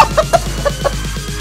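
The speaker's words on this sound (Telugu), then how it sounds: "అరేరే, అమ్మ కోడి వచ్చేసింది" A hen clucks in a quick series of short, close calls, about five in a row, over a low steady hum.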